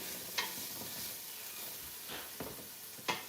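Onions and garlic fry in a pan with a soft, faint hiss, punctuated by three or four short scraping clicks from stirring, and nobody speaks.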